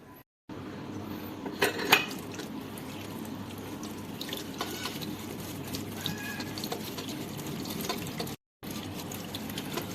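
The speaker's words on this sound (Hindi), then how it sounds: "हम पीसीबी को क्लीन कर रहे हैं ताकि हमें जो प्रॉब्लम है क्लियरली नज़र आए" Water splashing and dripping while an induction cooktop's circuit board is rinsed, a steady close wash with a few sharper drips and clinks and brief breaks in the flow.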